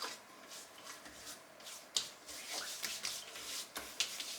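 Hands rubbing in skin cream with soft, steady friction, occasional sharper skin brushes standing out; close and quiet with no talk.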